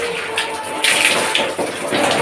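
Water pours and gushes down steadily, close by, during household washing for Diwali cleaning, with a brief surge partway through and a faint voice in the background.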